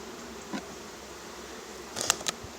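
Honeybees from a nuc being moved into a ten-frame hive box hum steadily nearby, with a few sharp knocks and clicks of wooden frames near the end.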